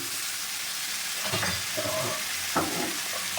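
Prawns with potato, red chilli powder and turmeric are stirred in a frying pan for a cabbage dish. A steady hiss of frying carries under a few scraping strokes of the utensil, heard close with no voices.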